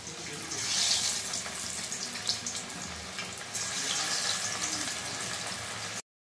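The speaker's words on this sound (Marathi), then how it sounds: "तेल गरम झाल्यानंतर आपल्याला एक माशाचे तुकडे तेलामध्ये टाकायचे आहेत।" Pomfret fish pieces fry in hot oil in a kadhai over a medium gas flame, giving a continuous bubbling hiss that swells and eases for about six seconds before cutting off.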